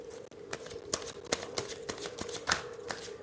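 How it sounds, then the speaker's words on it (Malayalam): Tarot cards being shuffled and drawn from a deck, a run of crisp papery riffles and slaps repeating every half second or so at close range, with a steady faint tone underneath and no voices. "ഞാനൊരു വേറെ ഡെക്കിൽ നിന്ന് 2-3 കാർഡ് കൂടെ എടുക്കാം."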